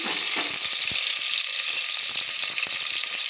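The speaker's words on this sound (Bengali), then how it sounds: "দিয়ে আমি ভালো করে একটু নেড়ে নিচ্ছি।" Large potato pieces, about ten to twelve, being stirred in hot oil in a pressure cooker pot for chicken curry, a loud continuous sizzle and frying hiss with scattered scraping clicks from the spoon.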